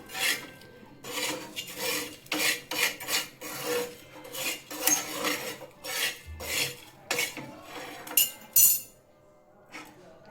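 A metal tool scrapes old coating off an iron tawa griddle, repeated rough rasping strokes with clinks of metal on metal, close and fairly loud in an uneven rhythm.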